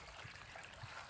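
Small creek in the woods, water flowing and trickling continuously as a soft, steady wash, heard alone with no talk.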